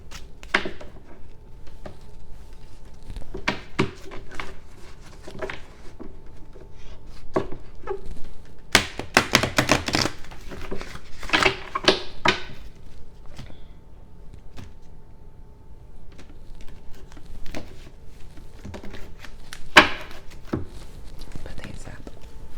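Tarot cards being shuffled, heard as repeated bursts of crisp riffling and tapping, with one loud dense flurry near the middle, over a quiet hum and soft whispered speech.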